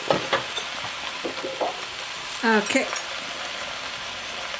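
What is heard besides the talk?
butternut squash and onions sizzling in a pot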